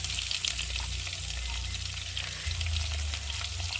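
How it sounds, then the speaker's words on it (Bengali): Potatoes fry in oil in a pan, giving a steady close sizzle and crackle that runs the whole time, with a low hum beneath and occasional stirring scrapes but no talk. "আলুটা বেশ ভাজা ভাজা হয়ে এসেছে"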